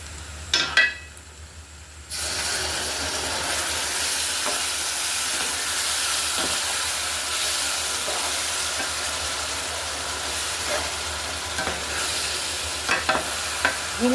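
A pan of garlic pickle in oil hisses steadily after vinegar is poured in, a loud close sizzle that swells at once after a short quieter start and keeps going with occasional stirring clinks.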